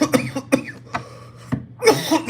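A series of sharp coughs, about five or six bursts in irregular rhythm with short pauses, close and fairly loud, the last ones clustered together near the end.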